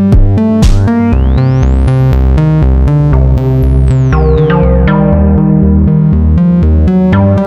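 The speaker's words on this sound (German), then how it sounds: "Ich mache mir jetzt noch den Grandmother Moog mit dazu." A Moog Grandmother synthesizer plays a loud, continuous melody of stepping notes over a steady pulse, with swooping pitch sweeps arcing up and down through it.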